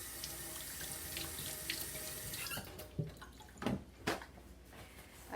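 Tap water running into a sink during hand washing, a steady splashing stream that gives way to a few louder splashes and handling sounds near the end, close and fairly quiet with no talk.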